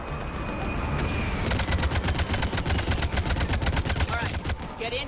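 Rapid automatic gunfire in Mass Effect 3, aimed at husks, starts after a second of rumbling background. It then rattles on steadily in fast, evenly spaced loud shots.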